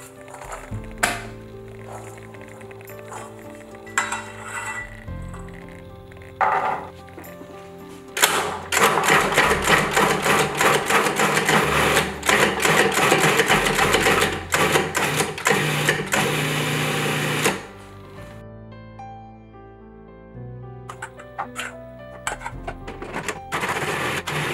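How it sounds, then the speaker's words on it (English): A food processor pulses air-dried peas, its motor whirring in short bursts and then a long loud run before stopping, with soft background music between. "we'll add the air-dried peas to the bowl of a food processor and we'll pulse until"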